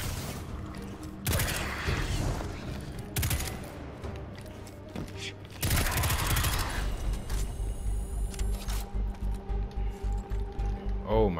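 Bursts of gunfire from a Destiny 2 gun, several loud volleys in the first half followed by a steady rapid series of shots, with background game sounds.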